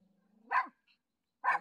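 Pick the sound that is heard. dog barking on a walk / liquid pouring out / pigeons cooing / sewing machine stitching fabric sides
dog barking on a walk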